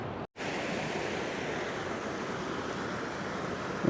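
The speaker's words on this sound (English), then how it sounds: "there's actually a little waterfall, as you can tell, down near the bottom on this side of the bigger canyon area" A small waterfall near the bottom of a canyon gives a steady, even rush of falling water, constant and fairly close, broken only by a brief cut at the start, with no voices.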